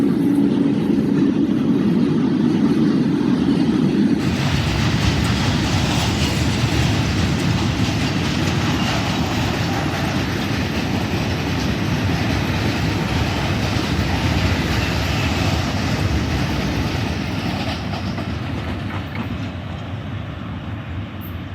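A long container freight train led by a locomotive rolls past Chutiana railway station on the Faisalabad–Shorkot line, a loud continuous rumble and clatter of wagons close by that slowly fades near the end.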